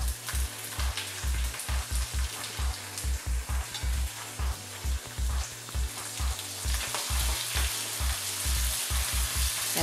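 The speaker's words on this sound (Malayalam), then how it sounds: "എല്ലാം കൂടെ ഒന്ന് നന്നായിരുന്നു ഫ്രൈ ആവട്ടെ" Curry leaves and shallots fry in hot oil for Onam sadya sambar, a loud continuous crackling sizzle with regular low thumps of stirring against the pan, and no talking.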